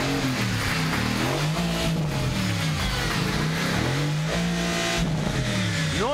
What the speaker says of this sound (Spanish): es este maravilloso vehículo, este Mercedes, que no sé exactamente, el GTS AMG.